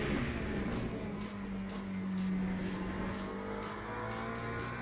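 Race cars in the Le Mans Ultimate sim racing game drone along with a steady, fairly faint engine tone, rising and falling slightly as they lap, with no talking.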